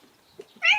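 A single cat's meow, a short rising cry with bright harmonics, sounds up close near the end after a few quiet soft knocks.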